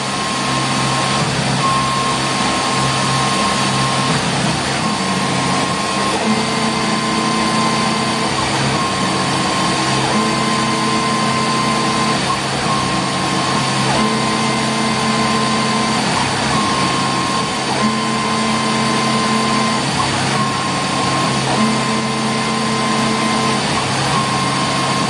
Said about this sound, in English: So we are waiting for 4000 RPM and 4000 RPM is reached.